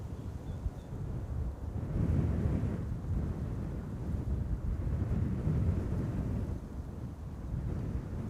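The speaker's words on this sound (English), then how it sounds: "Wind has begun to pick up a little." Wind blowing outdoors at Amsterdam Schiphol Airport, a steady low rushing roar buffeting the microphone in slow surges, continuous and fairly loud with no voices.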